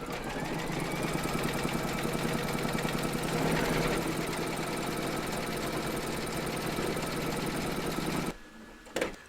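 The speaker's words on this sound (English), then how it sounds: "load your thread colour for that into your machine, and then you're going to stitch round number 4" An embroidery machine stitches a coronation-themed quilted fabric coaster in white thread, a steady, fast mechanical whirr and rattle running continuously and fairly loud before stopping abruptly near the end.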